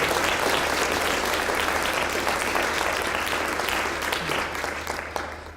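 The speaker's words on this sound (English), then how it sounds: "if you could just extend a warm round of applause for those who helped make it" An audience at a panel event on art and incarceration claps in a warm, sustained round of applause that fills the room evenly and thins out in the last moment.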